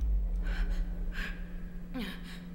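Heavy breathing in The Mortuary Assistant horror video game, a few sharp gasping breaths in bursts over a steady low hum, fairly close and moderately loud.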